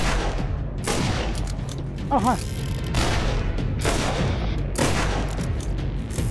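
Pistol gunfire in the Borderlands video game, repeated sharp shots and booms in a busy, loud stretch of combat, with a voice speaking briefly.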